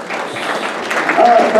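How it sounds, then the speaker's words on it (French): Audience applause at a palliative-care conference in Antibes, a steady wash of clapping across the hall with a voice and a faint tonal whistle rising near the end. "Donc on va applaudir"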